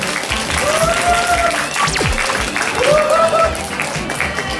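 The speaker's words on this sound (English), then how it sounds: "Give him a big applause, please." Audience applause at a live talk, steady broadband clapping from a crowd filling the whole clip at a constant level, with a few faint tonal sounds mixed in.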